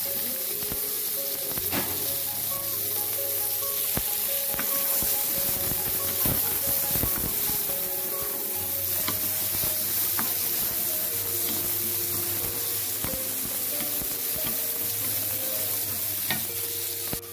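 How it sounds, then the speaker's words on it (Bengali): Onion frying in oil for a Bengali doi begun (yogurt eggplant) dish, a steady loud sizzle with frequent stirring scrapes and clinks of a utensil against the pan throughout, no talking. "5 মিনিট খুব ভালো করে পেঁয়াজটা ভাজা হয়ে গেছে।"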